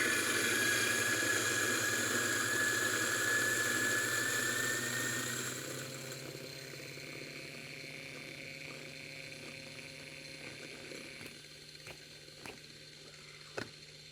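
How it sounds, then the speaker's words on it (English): A Mahlkonig X64SD coffee grinder grinds espresso beans from a cold start, a loud, steady motor whir with a rising whine that cuts off after several seconds and is followed by a few faint clicks. "This is a quick burst of professional grinding noise."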